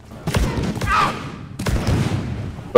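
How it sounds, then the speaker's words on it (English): Explosions in the co-op game Deep Rock Galactic, two loud booming blasts about a second apart, each with a rumbling decay, with players talking around them. "I can't stop exploding."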